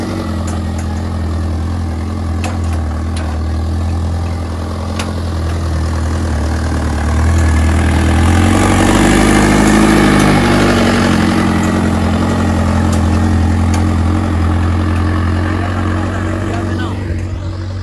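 Mahindra 585 50 HP 4x4 tractor engine running close by, a loud steady low rumble that swells briefly mid-way, with people talking over it.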